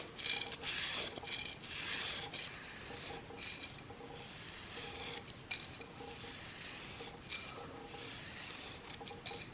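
Single-bevel Magnus 150 broadhead drawn repeatedly across 240 grit abrasive on a square dowel, giving steady close rasping strokes in an uneven rhythm, quiet and without speech.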